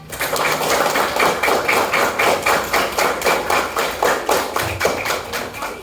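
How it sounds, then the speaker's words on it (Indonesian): A classroom of third-grade pupils at an Indonesian school claps together in a steady rhythmic pattern, with many hands striking at once in repeated, evenly spaced bursts that stay loud and close throughout. "Kasih tepuk tangannya."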